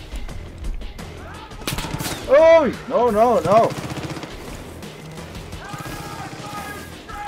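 Gunfire from a gun in the video game Far Cry 5, loud bursts of shots clustered in the middle, with someone talking and exclaiming over the action.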